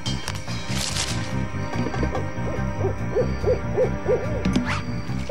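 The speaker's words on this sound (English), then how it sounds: "Ah! That owl's waiting up too!" An owl hoots at night in a series of soft, evenly spaced calls over a low, pulsing rhythmic background, with a couple of faint knocks near the end.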